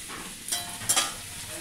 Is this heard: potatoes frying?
yes